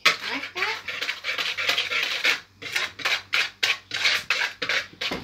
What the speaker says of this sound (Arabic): هاوني تخلط لكم في المكونات